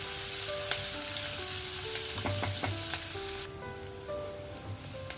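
Onions frying in a pan for mixed vegetable sabzi give off a steady, close hiss and sizzle with a few faint clinks of stirring, continuing with no one talking.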